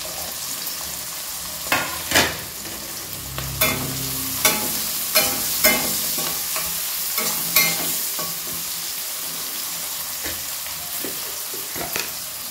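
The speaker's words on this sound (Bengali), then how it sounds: "এবার বিনস ভেজে নেব। দেখো, এবার বিনসগুলোকে দিয়ে দিচ্ছি।" Green beans fry in a pan, a moderate sizzle broken by sharp scraping and clattering strokes as they are stirred, close and without speech.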